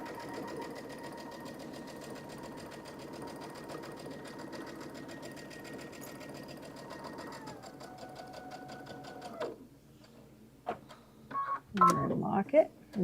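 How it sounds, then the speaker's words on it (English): A sewing machine runs steadily, stitching a birthday dress from bottom to top, its even buzzing hum carrying for about nine seconds before stopping, followed by some handling noises and faint talk. "Not sewing over pins. And I do sew bottom to top."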